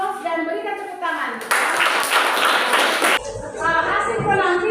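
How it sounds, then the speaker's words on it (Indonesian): A classroom of students clapping after group performances, a short burst of dense clapping in the middle framed by a teacher's voice and chatter before and after. "Nilai aplaus dan berikan tepuk tangan"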